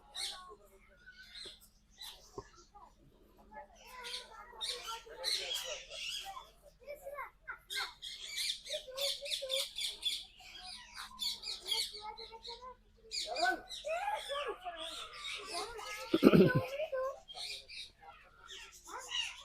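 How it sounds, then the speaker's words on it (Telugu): Parrots and other caged birds at Vizag Zoo give chirps and squawks throughout, heard among people and children talking nearby. "ఇదంతా ప్యారెట్స్ ఇది."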